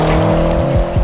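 Tuned Audi RS6 Avant accelerating hard, a loud close engine roar whose pitch drops sharply at gear changes and then climbs again, over about a second.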